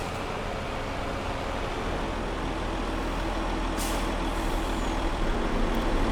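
A heavy truck pulling a trailer in Farming Simulator 22 drones with a steady, loud diesel rumble, joined by a brief hiss of air brakes midway, with no talking.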